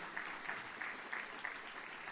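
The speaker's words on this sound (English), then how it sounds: "Can you give them a big round of applause?" Applause from a conference audience, a steady wash of many hands clapping at moderate distance with faint rhythmic peaks, no voices over it.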